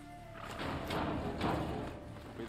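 A ridden robotic machine horse moves along, its heavy hooves thudding in a loose clip-clop rhythm of several muffled steps at close range over a low background hum.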